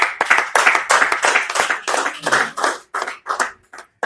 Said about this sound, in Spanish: Yo también quiero que tú le den un aplauso al pastor.